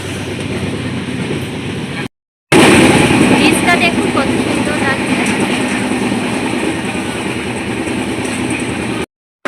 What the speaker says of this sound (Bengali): ট্রেন চলে যাচ্ছে দার্জিলিং মেল হলদিবাড়ির উদ্দেশ্যে ট্রেন চলে যাচ্ছে দেখুন